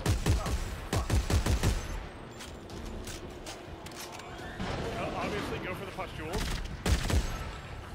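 Force gun firing in co-op Dead Space 3, a burst of loud, rapid blasts in the opening two seconds and another near the end, with game ambience and players talking in between.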